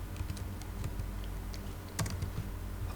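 Steady, rapid typing on a computer keyboard while entering fields in geological database software, close and continuous clicking with no talk over it.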